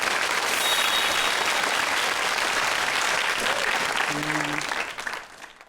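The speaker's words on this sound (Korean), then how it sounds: "박수 한번 주세요" Dense audience applause during a televised lecture, loud and sustained for several seconds before fading out at the end.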